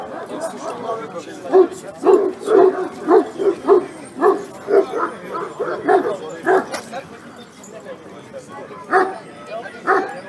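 A dog barks in a run of short, repeated woofs and yips, close by, with brief pauses and some whimpering between bursts.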